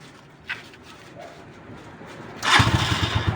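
A Rusi 175 motorcycle is warming up: a faint low idle rumble with a small knock early on, then a louder burst of engine revving near the end, close by and without speech.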